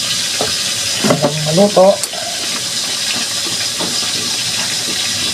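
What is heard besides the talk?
pot of water boiling with okra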